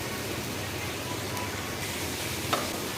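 Potatoes fry with broiler chicken pieces in a pan, giving a constant, even sizzle with a faint click near the end and no talking.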